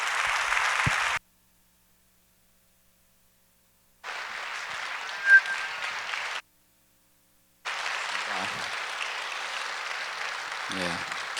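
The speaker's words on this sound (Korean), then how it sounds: "나오실 때 우리 박수로 환영하겠습니다" A church congregation claps to welcome a pastor to the stage, in three separate bursts of dense, even applause with silent gaps between them.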